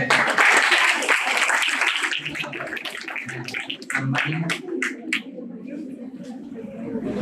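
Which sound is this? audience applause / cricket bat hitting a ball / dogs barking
audience applause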